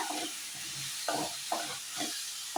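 Chopped okra stirred lightly in a pan, a faint background sizzle with four or five soft, regular scraping strokes of a spoon, close but quiet.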